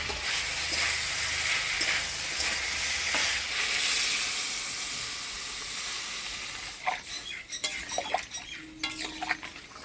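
Drumstick vegetable pieces and potatoes sautéing with spices in a pan give a loud, close sizzle that eases off midway, followed by sharp clinks and scrapes of stirring near the end.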